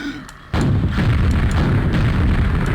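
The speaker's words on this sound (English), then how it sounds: "So you see rockets leave a little bubble trail behind after they explode." A deep, heavy boom from a rocket exploding underwater in a video game, hitting suddenly after a quiet moment and rolling on as a dense, muffled rumble.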